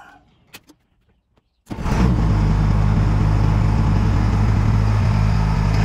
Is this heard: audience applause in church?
no